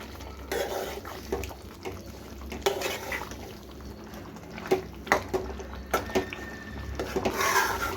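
Cooked mutton stirred into fried masala in a pan, with irregular scraping and soft clattering strokes against the metal over a low background hum, growing busier toward the end.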